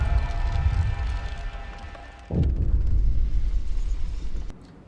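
A generator explodes in the video game Frostpunk: a low rumbling din gives way to a sudden loud boom, followed by a sustained roar that cuts off abruptly near the end.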